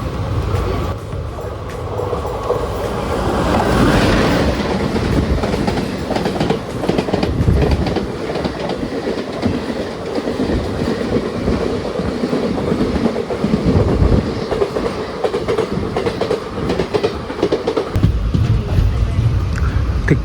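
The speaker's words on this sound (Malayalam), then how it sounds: "(226-10) നമ്പർ കോയമ്പത്തൂർ മംഗലാപുർ ഇൻ്റർസിറ്റി വരുന്നുണ്ട് കേട്ടോ." A Coimbatore–Mangalore Intercity train pulls into platform 4 of a station, its loud, close rumble and steady wheel clatter running unbroken for about twenty seconds.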